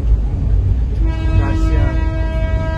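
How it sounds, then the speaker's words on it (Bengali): The Darjeeling toy train arriving at Kurseong station, a steady engine rumble and then a sustained horn blast that starts about a third of the way in and holds to the end. "কার্শিয়াংয়ে আমাদের টয় ট্রেন স্টেশনে ঢোকাচ্ছে।"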